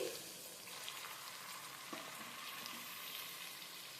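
Marinated chicken sizzles loudly and continuously in a hot frying pan, a dense, even crackle with a faint thump partway through.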